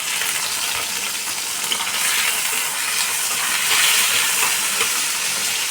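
Finely chopped onion fries in oil in a frying pan over lowered heat, giving a steady, close, bright sizzle that holds throughout.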